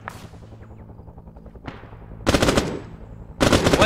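An MG3 machine gun fires in the Vietnam-era Arma video game. Quieter thuds come first, then two long, loud, close bursts of rapid automatic fire.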